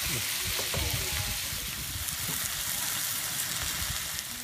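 Steady, crackling sizzle of cola sticky chicken frying in a hot pan, constant and close, with no voices.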